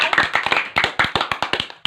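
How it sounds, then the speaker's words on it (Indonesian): Schoolchildren in a fifth-grade classroom clap for the banana group, a short burst of close, sharp handclaps in a quick, rhythmic pattern, loud and alone. "Beri tepuk tangan untuk kelompok pisang"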